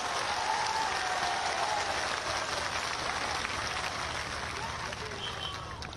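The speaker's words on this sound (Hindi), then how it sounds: "बहनों भाइयों तालियां बजाकर उनका स्वागत करेंगे" Large outdoor crowd at a political public meeting in Balurghat, West Bengal, applauding for air force personnel; dense, loud, continuous clapping from many hands, steady throughout.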